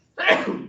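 A single sharp human sneeze bursts out loud and close, a quick breathy explosion that tails off over about half a second, heard during a classroom lecture.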